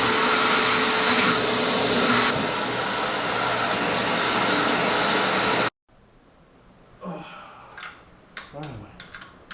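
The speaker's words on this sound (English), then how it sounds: "I'm gonna get the vacuum cleaner, see if I can suck it out." A vacuum cleaner roars loud and steady while sucking debris from the engine of a 1965 Honda CB450 K0 Black Bomber, then cuts off abruptly, leaving scattered clinks and faint handling noises.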